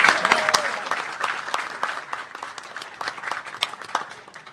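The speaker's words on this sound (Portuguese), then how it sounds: "Pode aplaudir, porque ele merece, pessoal." A crowd claps at an election night event in Brazil, dense scattered handclaps that start strong and gradually thin out, with a few murmuring voices underneath.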